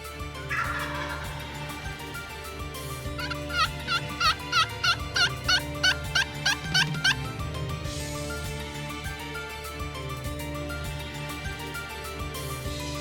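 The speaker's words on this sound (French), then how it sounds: "Le dindon fait son apparition" Wild male turkey gobbling in a Quebec forest, a loud rattling burst of rapid repeated notes near mid-clip amid quiet woodland ambience, fairly close.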